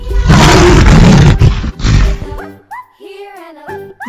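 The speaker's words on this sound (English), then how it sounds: "Lion." A lion gives a loud, close, rough roar lasting about two seconds, then falls silent, followed by a person speaking briefly.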